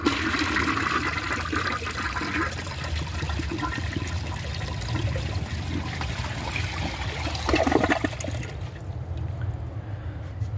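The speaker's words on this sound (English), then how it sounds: "Now let's see how it is supposed to flush." A 2003 American Standard Hamilton toilet flushes with the handle held down: a loud, close, steady rush of water for about eight seconds that surges briefly, then drains away to quiet.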